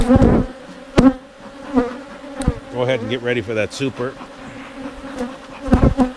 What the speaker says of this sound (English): There's so many bees here, it's pretty hard to do.